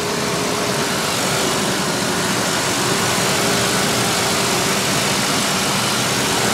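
A Ford Explorer engine idles steadily after a water pump replacement, a loud, continuous low rumble with a faint steady whine, running alone without talk.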